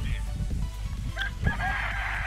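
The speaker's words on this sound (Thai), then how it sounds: "แล้วไก่ก็ขัน" A rooster crows in the farming video game Stardew Valley, a bright, drawn-out call rising over a low background, with people chatting underneath.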